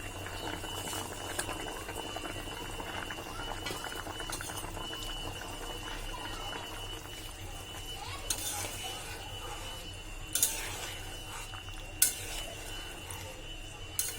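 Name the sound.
fish and potato curry boiling in a pot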